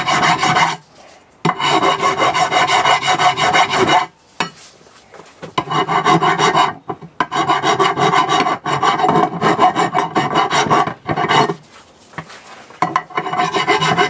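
Rust is scraped by hand off a 2001 Buick LeSabre's front brake caliper bracket, loud close rasping strokes in long bursts separated by short pauses.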